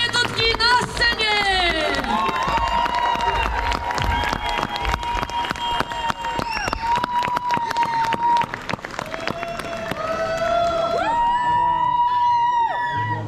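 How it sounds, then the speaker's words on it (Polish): A festival crowd at a Zawoja concert cheers, whoops and applauds steadily, while a voice on a loudspeaker talks over the noise throughout. "brawa, brawa i oklaski na powitanie!"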